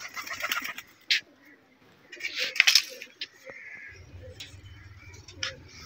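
Pigeons coo softly nearby amid scattered bird calls and a few sharp clicks, with a low rumble joining toward the end.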